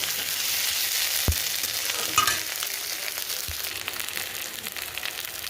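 Tomatoes fry in a pan with garlic and ginger, giving a steady, close sizzle with a few soft knocks of stirring and no voices.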